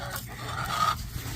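A backyard hen gives soft, low clucks and a brief nasal call, close by against a steady low rumble of surroundings; no one speaks over it.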